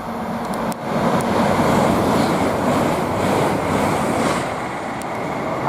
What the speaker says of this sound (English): next train to pass by, as seems to be standard for starting these videos on the East Coast Main Line now, we've got a Hull Trains Paragon heading to Hull